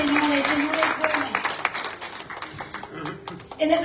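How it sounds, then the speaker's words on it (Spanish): A church congregation claps for the Lord after a sermon point, a dense spread of hand claps filling the room under ongoing speech and voices. "Denle un aplauso para la gloria y la honra del Señor"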